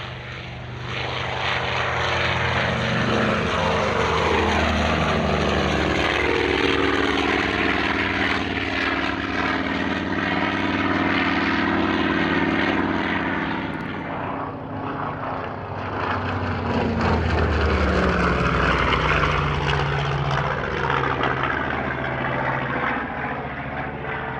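A Focke-Wulf FW190A8 warbird propeller fighter roars past at an airshow, its piston engine droning loud and steady with a rising and falling pitch as it passes, and no talking.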